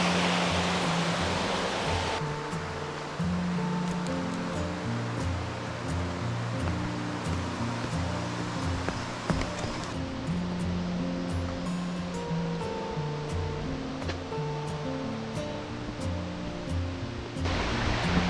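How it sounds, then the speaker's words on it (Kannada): Water flows constantly near Hebbe Falls in Karnataka, a loud, dense rushing roar that carries on unbroken throughout, with no voices. "ವಾಟರ್ ಸೌಂಡ್ ಕೇಳ್ತಿದ್ರೇ ಒಂಥರ ಖುಷಿ ಆಗುತ್ತೆ."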